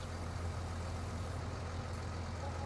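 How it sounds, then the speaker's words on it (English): Steady low engine drone of a tracked tractor in the PS4 game Farming Simulator 19 during a cotton harvest, a constant even rumble at moderate level with no talking. "I like this tractor."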